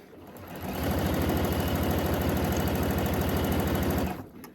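A sewing machine stitching a dress, motor whirring up to a fast, even, rapid needle rhythm that holds steady for about three seconds before stopping, close and alone.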